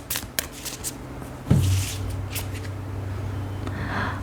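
Guidance cards being shuffled up close, a brisk riffle of soft papery flicks followed by a low steady rustle.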